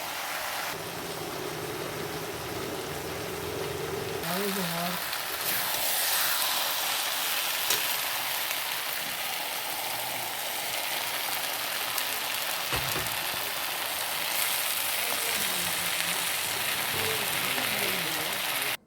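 Eggplant and potato pieces sizzle steadily under a lid in a covered pan, a continuous hissing fry that holds at an even level without speech.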